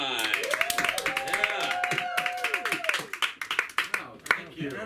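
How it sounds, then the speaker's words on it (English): Scattered audience clapping for a comedian at an LA School of Comedy open mic, a handful of sharp claps building toward the end, mixed with talking and a brief held vocal tone. "give a warm hand of applause"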